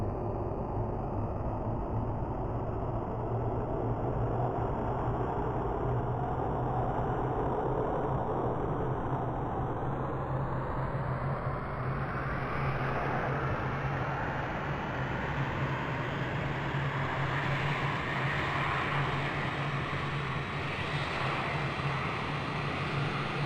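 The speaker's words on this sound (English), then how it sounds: "Let's start the engine." An F-16 MLU jet engine in the Falcon 4 Allied Force flight simulator spools up: a steady, faint whir for several seconds, then a rising whine that climbs smoothly and keeps building to the end.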